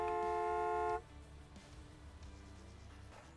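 Truck horn blaring in a farming simulator game, one sustained loud honk lasting about a second, then low engine rumble and background game ambience.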